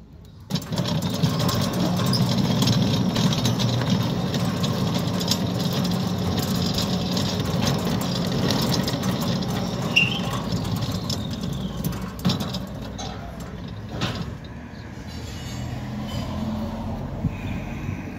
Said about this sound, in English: You can see that the gate motor is not properly secured. It's bouncing and jumping up and down.